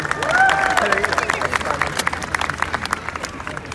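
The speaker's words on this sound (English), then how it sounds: "A round of applause, please, for the majesty that is George Chigga" Close, lively crowd clapping and cheering at a poutine eating competition as a contestant is introduced, with bursts of claps, a high whoop near the start and babble under the applause.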